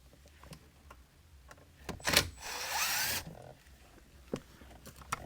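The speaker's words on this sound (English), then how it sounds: "I'm going to get my Phillips head drill." A Phillips head power drill whirs briefly while removing screws from an Infiniti G37 coupe console, one burst of about a second standing out amid faint clicks and small handling knocks in a quiet car interior.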